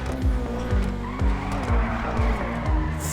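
A GTA5 car engine revs in a steady, rhythmic pulse with repeated swooping low tones, and a hint of tire squeal as the car spins out, loud and close with no voices.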